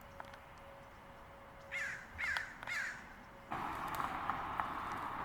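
Crows cawing in a park, three loud harsh caws in quick succession, then a rougher burst of calls against a steady background hum, with no talking.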